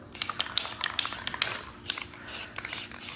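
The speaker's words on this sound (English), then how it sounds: "now we spray it with clear coat" A spray can hisses out matte clear coat onto an e-bike rim in several short and longer bursts, close and bright, with the nozzle clicking between passes.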